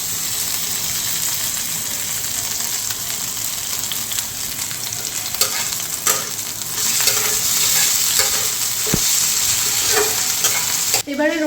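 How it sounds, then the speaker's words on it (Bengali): Steady, close sizzling of ginger and garlic paste frying in a pan with intermittent stirring scrapes and clinks, continuous throughout. "রসুনটাকে আর আদাটাকে একটু ভালো করে ভেজে নেব"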